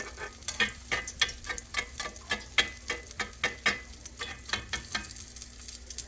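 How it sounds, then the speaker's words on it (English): Chile rellenos fry in oil in a pan, a steady close sizzle broken by repeated sharp crackles and light taps from the spatula. No one speaks. "As you're cooking them, you can also do this very lightly to kind of get the oil around the edges so that it cooks"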